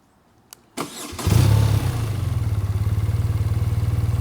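A 2024 BMW R 12 cruiser motorcycle with an air-oil cooled boxer twin starts up, warm after a few miles: a click, a short starter whirr, then the engine catches and settles into a quiet, steady, evenly pulsing idle, heard close and alone.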